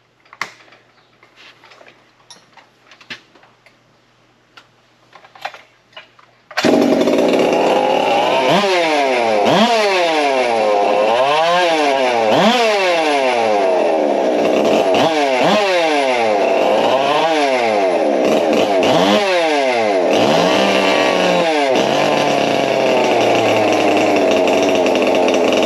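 A Husqvarna 372XP chainsaw running rich on nitro fuel: after quiet handling noises, the engine starts loud and close and revs up and down repeatedly in a steady rising and falling pattern, with no talk.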